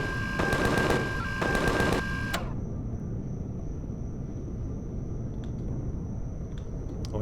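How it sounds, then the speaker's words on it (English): Automatic gunfire aimed at scorpion-like arachnid creatures in the sci-fi survival game Empyrion Galactic Survival, two quick rapid-fire bursts that stop abruptly, leaving a low ambient rumble and a steady high tone. "he's shooting the scorpion guys over here, the arachnids"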